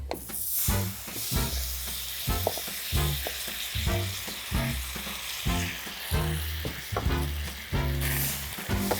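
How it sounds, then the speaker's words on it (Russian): Country-style potato wedges sizzle loudly in a hot frying pan, a constant crackling hiss with rhythmic scraping and stirring thuds throughout. "Выкладываем картофель в сковороду"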